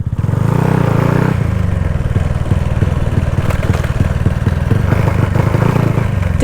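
A motorcycle rides along with a loud, steady engine drone and rhythmic clattering pulses, close and continuous throughout.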